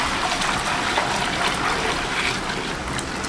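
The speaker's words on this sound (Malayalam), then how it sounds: "ഈ വെള്ളം കൂടി അത് ഒഴിക്കാം" Water being poured into a pot of beef mandi, a steady, close splashing rush that continues evenly throughout with no talk.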